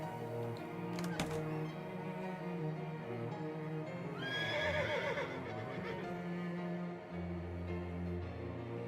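A horse neighs and whinnies in the video game Shadows Over Loathing, a bright rising cry near the middle set over steady game music that plays throughout.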